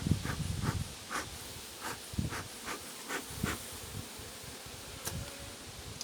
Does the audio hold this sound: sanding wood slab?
no